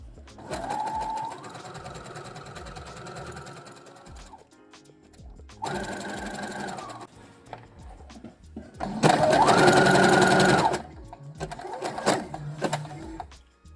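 A sewing machine stitches elastic onto homemade knickers in several separate runs, the last burst loudest and fastest, with pauses and quiet handling noises between the passes over the join.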